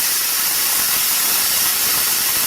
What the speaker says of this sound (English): I was actually just turning the air on my compressor